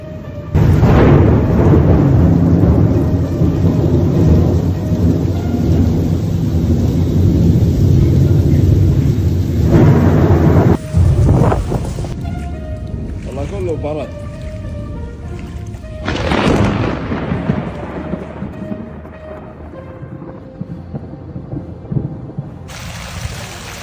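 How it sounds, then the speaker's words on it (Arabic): A strong evening thunderstorm in Jazan, with heavy rain roaring steadily and thunder rumbling through, loud and close, with a couple of abrupt cuts and quieter stretches of rainfall later on. "العواصف الرعدية القوية التي ضربت جازان مساء أمس"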